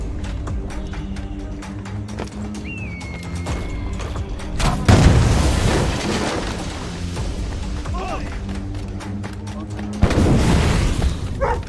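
Gunshots fired in Assassin's Creed Rogue: two heavy, booming blasts a few seconds apart, each with a short rumbling tail, over a steady bed of game music and ambience.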